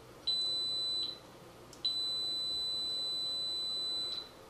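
A Kaiweets KM601 digital multimeter gives two continuity-test beeps: a short, shrill tone, then a longer sustained one, loud and clear over a quiet background.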